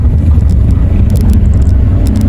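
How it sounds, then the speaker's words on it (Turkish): A Fiat Egea 1.4 Fire car engine braking on the road, a loud, steady low rumble of engine and road noise throughout, without talk. "Motor freni."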